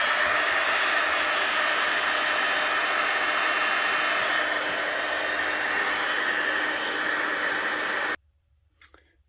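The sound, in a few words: hair dryer drying junk journal ephemera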